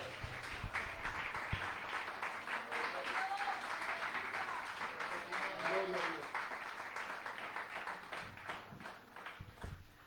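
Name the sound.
applause in church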